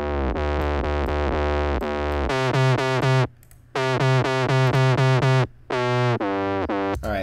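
A loud, crunchy distorted sine wave synth bass plays a choppy pattern of sustained notes with brief gaps, buzzing and gritty throughout, with no voices.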